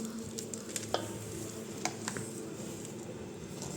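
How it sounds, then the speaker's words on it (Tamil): Margarine and icing sugar being mixed together for eggless cashew biscuit dough: a quiet, steady squishing and scraping with a few light taps from the utensil, close and faint, with no voices. "ரெண்டையும் சேர்த்து நல்லா மிக்ஸ் பண்ண வேண்டியதான்."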